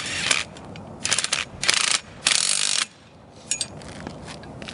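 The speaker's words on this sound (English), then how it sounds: "I always do the center long bolt up tight first." The long center bolt of an HDTV antenna mount bracket is tightened with a ratchet, which gives several bursts of quick metallic clicking at close range with short pauses between them. No one speaks.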